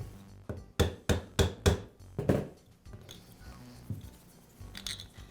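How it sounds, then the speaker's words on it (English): A rubber mallet taps a bearing into a DeWALT grinder gearbox: five quick, evenly spaced dull knocks, then a sixth firmer hit, followed by faint handling noises nearby. "I'll tap it with a rubber mallet just to make sure I have the bearing set."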